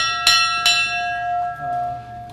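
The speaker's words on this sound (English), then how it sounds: "It has a bell," A bell on a small-town Seagrave fire truck rings out in two loud, clear strikes about half a second apart, each leaving a long, steady ringing tone that slowly fades.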